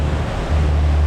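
Waves rolling on a windy Lake Huron make a loud, constant wash of surf mixed with heavy wind rumbling against the microphone, and a low steady engine hum sits underneath.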